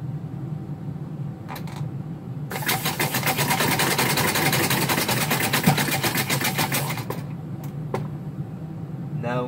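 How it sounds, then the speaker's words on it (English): A homemade compressed air engine winding up a dumbbell as a winch runs with a fast, steady chuffing pulse for about five seconds, framed by a few sharp clicks before and after. "Right now this engine will act as a winch and hoist this dumbbell up."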